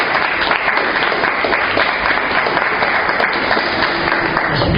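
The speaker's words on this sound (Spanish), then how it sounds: "Denme un fuerte aplauso de bienvenida." A church congregation gives a strong welcoming round of applause, loud, dense clapping from many people that stays steady and close throughout, with a few scattered voices blended in.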